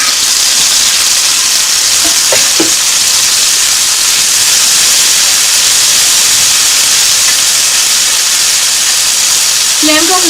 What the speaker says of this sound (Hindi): अब हम चिकन डालेंगे और चिकन को फ्राई कर लेंगे।